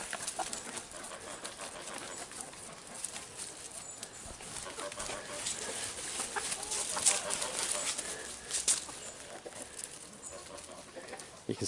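Several chickens cluck and murmur continuously nearby, with overlapping soft calls and occasional sharper notes against an outdoor background.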